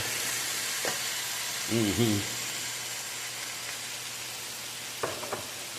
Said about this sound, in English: the spinach is going to saute down no matter what, so you do to it. So we're going to put that in here